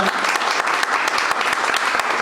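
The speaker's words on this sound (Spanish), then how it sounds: "un fuerte aplauso para todos ustedes" An audience at an investment meetup breaks into strong, dense applause, a loud, continuous clatter of many hands close by with no pauses.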